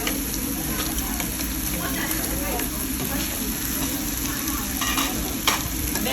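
Fish frying in a pan gives a continuous close sizzle and crackle with scattered pops, a faint voice or kitchen sounds mixed in beneath the steady hiss.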